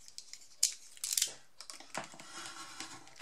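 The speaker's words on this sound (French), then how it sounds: "Encore une fois, il faut découper l'excédent qui dépasse." Scissors trimming excess paper from a handmade flip book, giving a few crisp close snips and rustling paper crinkles, with no talking.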